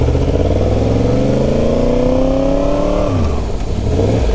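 A 1000cc motorcycle accelerates hard in first gear, its engine note climbing steadily in pitch for about three seconds before the throttle rolls off and it settles back, loud and close with wind noise.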